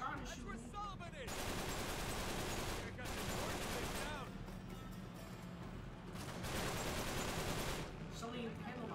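Video game gunfire in Uncharted 3: rapid bursts of automatic shots and fusillades rattle loudly in dense clusters, separated by brief lulls.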